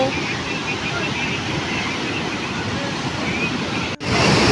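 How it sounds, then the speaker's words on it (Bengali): Water pours steadily down a waterfall where people are bathing, a loud, constant broadband rush like surf that fills the whole stretch, with a brief dropout near the end. "খালি ফলসটা দেখো জল পড়ছে"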